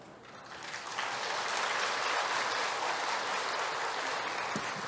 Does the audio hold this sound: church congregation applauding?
yes